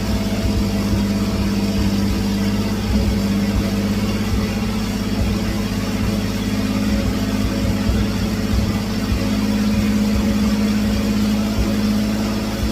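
A 1954 GMC COE truck engine runs continuously at high RPM, a steady droning hum with a constant low throb and no breaks or rev changes, heard close and alone.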